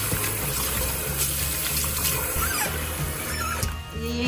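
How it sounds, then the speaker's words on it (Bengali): Tap water running steadily into a sink while raw meat is rinsed in a home kitchen, close and fairly loud with splashing and clattering throughout. "চলো মাংসগুলো ধুয়ে নিয়ে আমি ভালো করে"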